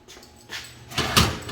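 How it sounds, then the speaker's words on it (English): A home door is pushed shut in a kitchen, with some shuffling and a muffled thud and rattle as it closes, nearby and fairly loud, with no talking. "let me go close the door"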